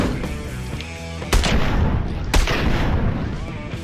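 Gunshots in Ride to Hell: Retribution, a third-person action game: two loud, cracking blasts about a second apart over steady game noise, close by and without speech.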